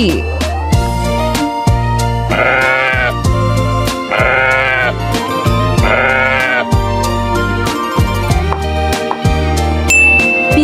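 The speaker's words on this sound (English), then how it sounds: "Sheep." Sheep bleating in a children's animal sounds set, heard as several loud, wavering bleats recurring in rhythm over a steady musical backing with chime-like tinkles.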